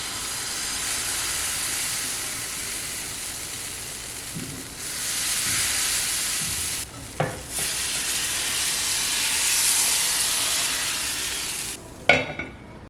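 Appam batter cooks in an appam pan with a loud steady sizzle and hiss, broken by a couple of short pauses and sharp clinks or pops, no talking.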